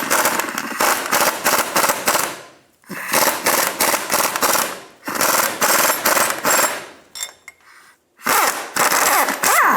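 A pneumatic impact wrench hammers a bolt tight on a 2000-2006 Toyota Tundra steering rack during a bushing replacement, loud and close in several long rattling bursts with brief pauses between them.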